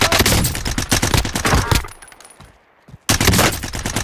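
Rapid automatic gunfire in Call of Duty: Modern Warfare, loud and close, with dense bursts that pause briefly into near-silence before the shooting resumes.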